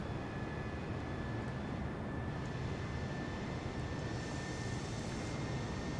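Airbus airliner engines at climb thrust just after departing Islamabad, a steady loud broadband roar with a faint high whine, continuous and unbroken throughout, heard from inside the aircraft.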